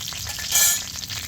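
Whole cumin and dried red chillies hit hot oil in a pan, giving a short, bright sizzle that swells and fades within about a second, close up with no talking.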